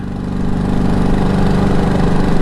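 Motorcycle engine of a blue project bike idling steadily nearby, a loud, even low rumble with a regular pulsing throb throughout.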